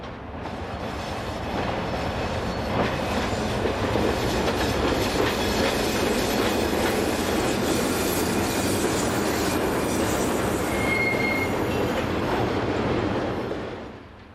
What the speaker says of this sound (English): this through freight from Gremberg to Wembley arrives just after midday